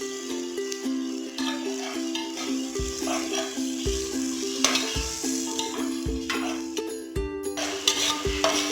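Biryani masala, Kashmiri chilli powder and other spices being sautéed in a pan for mutton biryani, with a steady close sizzle and repeated scraping stirs of a utensil against the pan; no talking.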